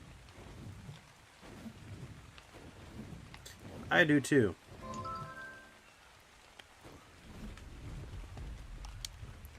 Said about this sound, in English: Looks like I'll be taking a nap in the rain.